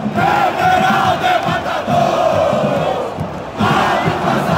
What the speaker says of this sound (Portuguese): Essa torcida do Bahia é maluca, velho!